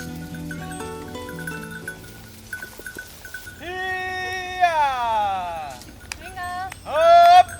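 Goats in a herd bleat in overlapping, wavering calls at an eco village, with several near, drawn-out cries rising toward a loud bleat at the end, over light background noise and some talk.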